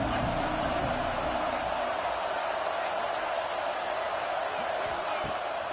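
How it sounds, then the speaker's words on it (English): A loud, steady roar of a large stadium crowd at a college football game fills the whole stretch, a dense wash of cheering noise with faint thuds underneath, from the video game College Football 26. "This crowd bringing the energy and noise early."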